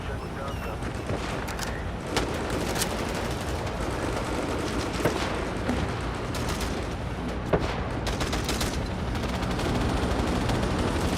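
Dense, continuous gunfire from the Vietnam-era shooter Hell Let Loose Vietnam, with rifle and machine-gun bursts layered over distant artillery rumble, steady and loud throughout with sharper nearby cracks standing out, while a player talks over it.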